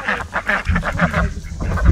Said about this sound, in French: Du coup là on va nourrir les canards et les poules.